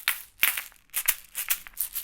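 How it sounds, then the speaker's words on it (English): Two West African kashaka shakers played together at once, giving quick bursts of sharp rattling clacks in an irregular, repeating rhythm, close and fairly loud, alone without talk. "the challenge is to try and play both instruments at the exact same time"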